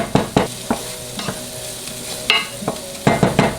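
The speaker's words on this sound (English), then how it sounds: "I cook my onions over medium-low so that they sweat and caramelize before they burn." Salted onions sizzle in a pan over medium-low heat for a mushroom stroganoff, a soft steady frying hiss broken by close, rhythmic scrapes and taps of stirring.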